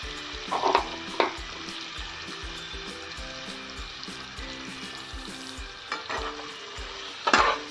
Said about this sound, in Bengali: 2 থেকে 3 মিনিট আমি চিংড়ি মাছটা হালকা করে ফ্রাই করে নেব